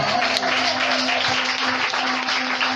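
A church congregation applauds, a dense, continuous clapping that stays steady throughout, with a sustained tone humming underneath.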